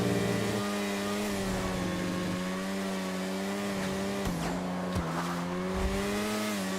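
A car's engine drones at high speed through traffic in GTA Online, a steady sustained hum that wavers slightly, with a few short bumps and scrapes toward the end.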